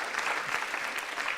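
Continuous applause from a conference audience following a talk at a strategic communications forum, a thick even patter of many hands held at steady level throughout.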